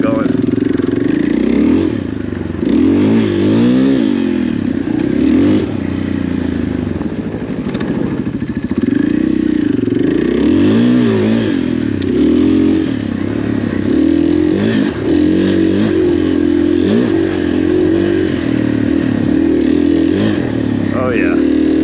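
A dirt bike sits at an OHV trail in Foresthill, California, its engine warming up with a steady close idle and repeated short throttle blips, while people talk over it.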